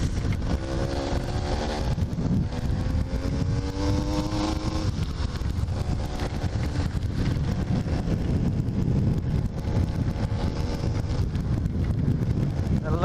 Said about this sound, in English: The lovely sound of a choking out two-stroke